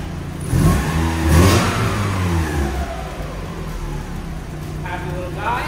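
A cheap, worn Mazda Miata engine revs up twice in quick succession, rising and falling near the listener, then settles into a steady idle hum with a voice briefly audible near the end.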